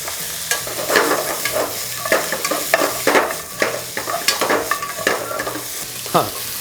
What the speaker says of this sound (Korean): 지방이 좀 있는 앞다리살을 이용해서 볶아주세요